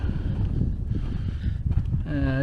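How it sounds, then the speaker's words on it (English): Wind blowing through a canyon at a campsite, a steady low buffeting rumble against the microphone that swells and dips in gusts, with no voices. "It's a little bit windy now"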